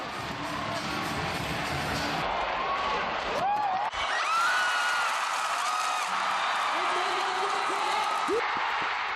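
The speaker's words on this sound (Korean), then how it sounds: "드디어 용기가 생겼는지 환호성을 지릅니다." A man whoops and cheers from the stands of a basketball arena, his rising shouts standing out over a steady, dense crowd roar that fills the whole stretch.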